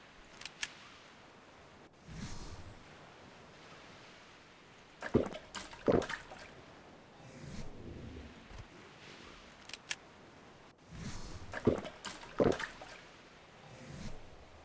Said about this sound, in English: Very weird splashing sound.